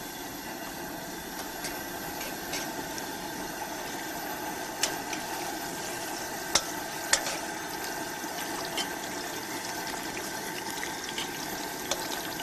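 Rabbit pieces, freshly shot that morning, sizzle steadily as they brown in a pan, a constant bright frying hiss with a few small pops and crackles and no talk.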